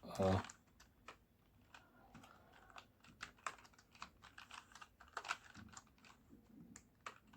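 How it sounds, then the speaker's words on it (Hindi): Rapid clicking keystrokes on a computer keyboard typing Hindi text in the Kruti Dev font, steady and close throughout, with a speaking voice over the typing. "ये भी कीबोर्ड से ही लिख सकते हैं"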